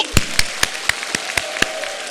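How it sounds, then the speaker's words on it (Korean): Audience at a church group vision presentation clapping in unison, seven or eight sharp, evenly spaced claps in a brisk rhythm, loud and close, with no talking over them. "마지막으로 힘차게 박수 한번 치겠습니다"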